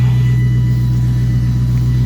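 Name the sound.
car exhaust rumbling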